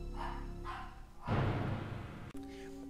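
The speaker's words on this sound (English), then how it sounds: "If you guys heard any barking just then, they were my dogs." A dog barks a few times in the distance, muffled and brief, followed by a louder broadband rush of noise.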